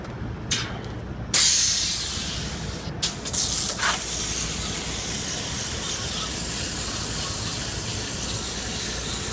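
A pressure spray hisses steadily as it washes out the coil of a Temp Star package unit with a discolored compressor, starting after a few brief bursts and then running loud and continuous.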